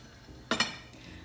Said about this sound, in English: now that my eggs are done, I'm going to put them on a plate